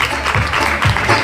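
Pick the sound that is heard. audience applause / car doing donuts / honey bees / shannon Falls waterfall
audience applause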